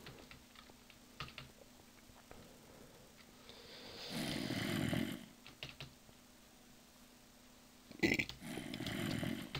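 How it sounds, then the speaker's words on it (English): Two low, rumbling burps from a gamer at a computer playing Minecraft on the Mineplex server, the second following a few seconds after the first, with faint keyboard tapping between them. "As if it may have been a weird burp."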